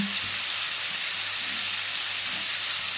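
Pork and pork and beans frying in a pan, giving a steady, broad sizzle that holds even and close throughout with no voices.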